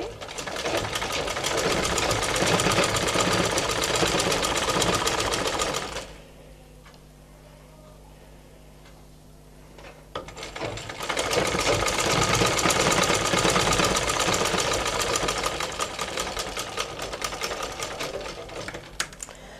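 A sewing machine stitches a hook placket on a blouse, running loudly and steadily for about six seconds, pausing for several seconds, then running again for a long continuous stretch.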